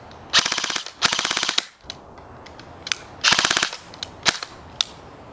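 A G&G Combat Machine M16 (M4) Raider electric airsoft rifle on a 30C battery fires several rapid full-auto bursts, short and sharp, with brief pauses between and a few single shots near the end.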